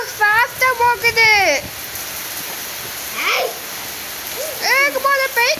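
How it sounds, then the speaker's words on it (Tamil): Steady rain falls during a thunderstorm at a home in Sivaganga, a continuous hiss beneath a voice and other voices heard in bursts near the start, middle and end. "மழை செம்மையா போகுதுடா."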